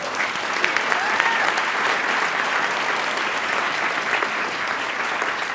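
Sustained, dense applause from an audience at the Hollywood Film Awards ceremony, loud and even throughout with no break.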